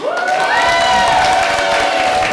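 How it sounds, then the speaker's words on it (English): Crowd applause and cheering for Assembly Member Fong at the LA Chinatown Hungry Ghost Festival, steady and loud throughout with a high whistle-like tone riding over the clapping. "Let's give Will a big round of applause"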